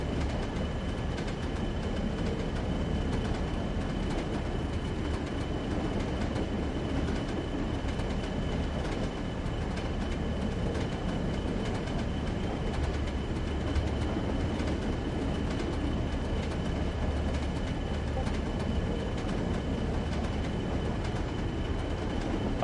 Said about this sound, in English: Class 24 called Experiment in Derby RTC livery.